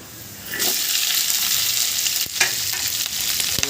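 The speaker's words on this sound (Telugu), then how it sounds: "పచ్చిమిరపకాయల్ని ఈ విధంగా కట్ చేసుకొని నూనెలో వేసుకున్నట్లయితే" Green chillies sizzle steadily in hot oil, a dense close frying hiss that rises sharply about half a second in and holds, with a couple of brief stirring knocks and scrapes.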